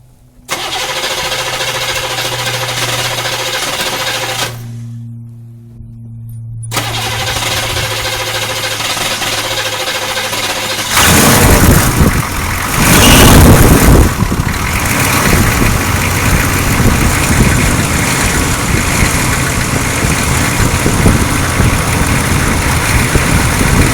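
A 6.2 diesel Chevrolet Suburban cranks, goes briefly quiet, then fires up and settles into a loud, rough, clattering idle that runs on steadily.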